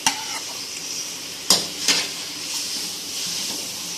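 Grated onion fries in oil in a pan with a steady soft sizzle, while a spoon stirs and scrapes against the metal in a few sharp knocks.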